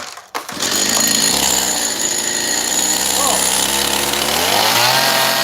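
A 12-inch chainsaw with a dull chain rips through wood, roaring loud and continuous close by, with the engine pitch shifting as it bites into the cut.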